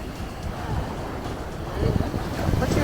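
Ocean surf on Miami beach washes in steadily, a broad close rushing noise with some wind buffeting on the microphone, building slightly louder near the end.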